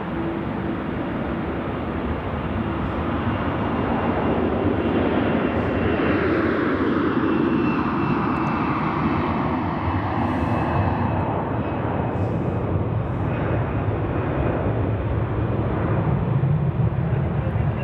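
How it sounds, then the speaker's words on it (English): A Swiss Airbus A330 landing at Zurich Airport on a winter day: a loud, sustained jet engine roar that rises and sweeps past, filling the whole stretch with broad engine noise and no talk. "we have another heavy landing, a Swiss A330"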